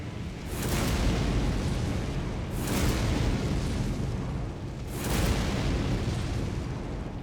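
Repeated booming explosions from charged heavy weapon attacks in a video game, three deep blasts roughly two seconds apart, each with a long rumbling tail, loud and continuous with no talk.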